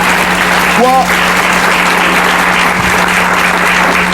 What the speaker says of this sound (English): give our guest a big round of applause for being here